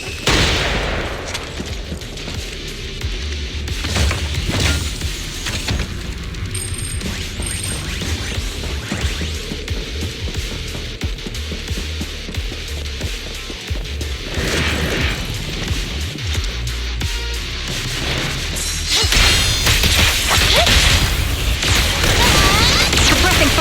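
Bursts of rapid suppressing gunfire and crashing impacts from the video game Zenless Zone Zero, loud and dense throughout, with a few brief game voice lines.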